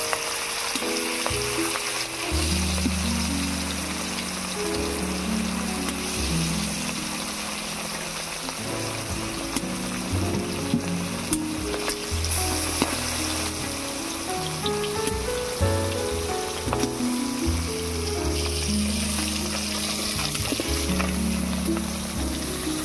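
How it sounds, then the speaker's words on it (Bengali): Pieces of katla fish fry in hot mustard oil in a pan, giving a loud, continuous crackling sizzle with dense popping throughout and no voices. "তেল গরম হয়ে গিয়েছে। এবারে মাছগুলো ভেজে নেব।"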